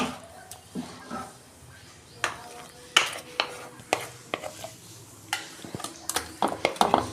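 Cooked vegetarian bitter gourd curry being tipped out of a pan, a series of spoon-on-metal scrapes and clinks of varying loudness, close by, with a quiet hiss underneath and little talk.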